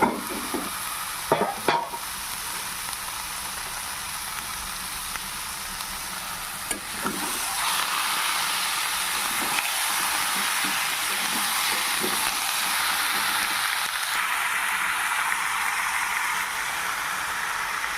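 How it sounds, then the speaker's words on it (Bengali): Chicken pieces frying in a spice masala while being stirred, a steady bright sizzle with scraping spatula strokes, growing louder and denser partway through; no talking. "ধুয়ে রাখা মাংসটা দিয়ে দেবো, দিয়ে আরও কিছুক্ষণ ভালো করে কষিয়ে নেব।"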